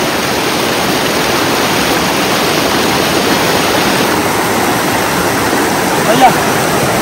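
A forest waterfall roars in a dense, unbroken rush of falling water, loud and close throughout with only faint voices beneath it.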